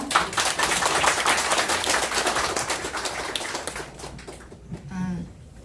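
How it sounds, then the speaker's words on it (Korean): An audience claps to welcome a citizen peace activist onto the stage, with crisp individual claps forming a moderate wave that thins out and fades, leaving a short faint sound near the end. "자, 큰 박수로 모시겠습니다"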